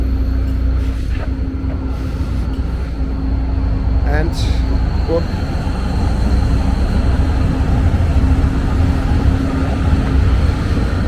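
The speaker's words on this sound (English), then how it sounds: "As another tram is passing by, line number 2 this time" A Karlsruhe tram on line 2 rolls past near Europaplatz and Kaiserplatz, a steady low rumble of rail wheels and motor in busy street ambience, with a person talking over it and a short electronic chime partway through.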